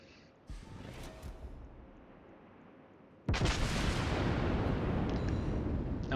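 Tirpitz battleship main guns firing in World of Warships, a sharp opening report followed by a heavy booming salvo that erupts midway and rumbles on loudly, with no talk.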